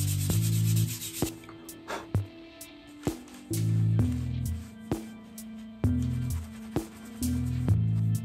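Latex paint on a surface being sanded smooth by hand, with repeated rubbing strokes in bursts separated by short pauses, close and fairly loud, no talking.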